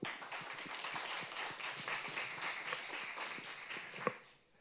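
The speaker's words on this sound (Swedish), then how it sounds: "Varm applåd, tycker jag." Audience applause welcoming a speaker at a lecture, a dense, steady patter of many hands clapping that continues evenly, then fades out with a final louder clap.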